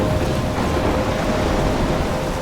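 Steady thunderstorm in the Life is Strange video game, with heavy rain roaring evenly and a continuous low rumble throughout, loud and close with no talk over it.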